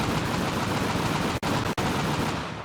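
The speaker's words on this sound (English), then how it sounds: "Look at the machine gun fire." Sustained dense machine gun fire from an aircraft gun in the flight combat game Steel Aces, a loud continuous rattling burst broken by two brief gaps, with no talking.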